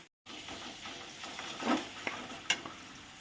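Salted onions frying in a pan, a soft steady sizzle that starts after a brief silence, with a few clinks and scrapes of a spoon as they are stirred.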